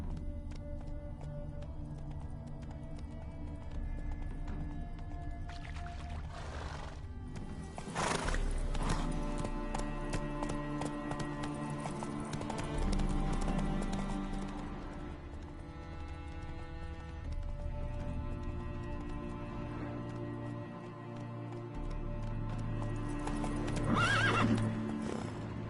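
Roach, the horse in The Witcher 3, neighs and whinnies loudly over steady clip-clopping hooves, with bursts of game music and effects, and no one speaking.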